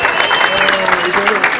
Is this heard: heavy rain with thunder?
no